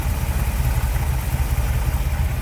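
A 1962 Chevrolet Impala SS Tribute's V8 idles steadily nearby, a dense low rumble running evenly throughout with no voices over it.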